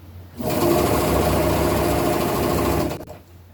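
A sewing machine runs a steady straight stitch through knit fabric, a continuous whirring hum that starts abruptly, holds for about two and a half seconds, then stops, with no voices.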